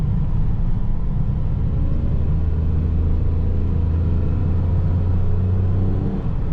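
A 2009 Perodua Viva 1.0 EZ automatic on a test drive, its small engine humming with a steady low rumble and a faint rising whir as it moves off, with no talk over it.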